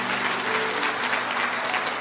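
A church congregation breaks into sustained applause, a dense, even wash of clapping with a faint musical hum underneath, steady and fairly close.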